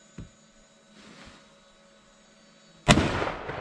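Half a pound of Tannerite detonates when shot on ice: a sudden, loud, close blast with a long rumbling tail after a few seconds of faint background hum and a small thump.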